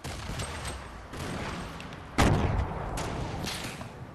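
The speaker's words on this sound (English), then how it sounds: "He's throwing nades." Grenades burst in Fortnite Battle Royale: a sharp, loud blast lands midway through a noisy stretch of gunfire and rumbling explosions, with smaller thuds before and after.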